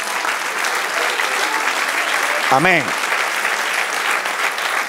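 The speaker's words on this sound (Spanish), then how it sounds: "Den un aplauso al Señor" A church congregation applauds, dense and continuous clapping throughout, with someone briefly speaking over it partway through.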